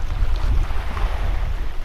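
Steady sea breeze on an island beach rushes across the microphone in a low, continuous roar, with a faint watery wash of waves underneath and no voices.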